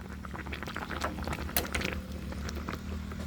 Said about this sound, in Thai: เคี่ยวให้มะเขือเทศเปื่อย เคี่ยวนานๆอ่ะ